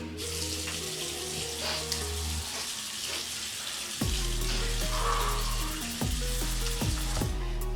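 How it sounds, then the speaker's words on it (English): A household faucet runs in a steady, continuous wash of water, with tonal sounds underneath that may be background music. "Every time we turn this faucet on, and it just smells like rotten eggs whenever we turn it on."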